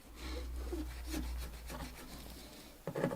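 A fingernail scratches dirt off an old glass plate negative in short rubbing strokes, soft and close, with brief pauses and a sharper scrape at the end.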